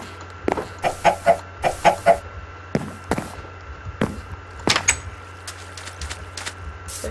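Minecraft chicken clucking in the video game: a run of short, rhythmic clucks, loud and near, mixed with a few sharp percussive game sounds over a low steady hum.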